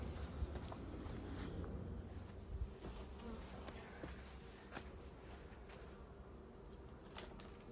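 Honeybees swarm around one of two beehives, some carrying pollen in, filling the air with a dense, continuous buzz as individual bees zip past close by.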